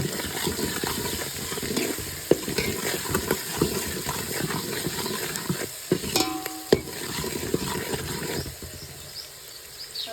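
Onions and turmeric frying in oil in a pan, stirred with scraping spoon strokes over a steady close sizzle, a brief clatter near the middle, and the frying quieting toward the end.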